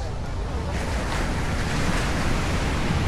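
Low-tide sea waves wash steadily along the shore in Bali, a broad continuous surf roar mixed with wind buffeting the microphone.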